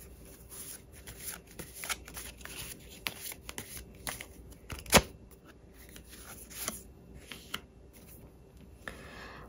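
Tarot cards shuffled by hand in a steady stream of soft papery flicks and taps, with one sharper slap midway, close and fairly quiet with no talking.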